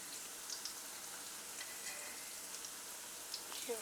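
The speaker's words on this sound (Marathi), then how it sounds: "आता खालची साईड पण आपण चांगली फ्राय करून घेऊया" Spinach and gram flour vadi frying in hot oil, a soft, steady sizzle with faint crackles, quiet and close with no talk.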